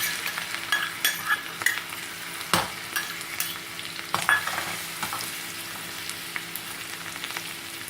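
Oil crackles and sizzles steadily as crushed garlic fries for Sindhi mixed dal, with a few sharp pops and scraping stirs against the pan, no voices.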